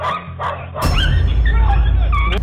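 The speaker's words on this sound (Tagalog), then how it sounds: "Gaya ng sea lion na to na nabwisit na sa ingay ng aso." A dog yaps and barks a few times at a sea lion, then loud splashing and rushing surf take over with more sharp barks on top.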